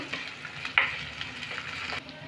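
Onion, ginger, garlic and a crushed green chili frying in a pan, a steady close sizzle with a brief stirring scrape, no talking.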